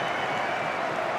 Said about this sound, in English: The applause again you'll hear for